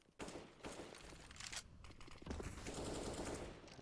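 Rapid automatic rifle sprays and bursts of gunfire in a Counter-Strike match, loud, dense and continuous with short gaps, with no talk over it.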